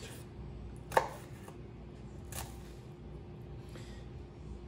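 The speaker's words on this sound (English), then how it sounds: "Just be mindful of where your fingers are when you are chopping." A knife chopping food on a cutting board while making chili cheese dogs, a few faint, sparse knocks over a quiet background, with one sharper chop standing out.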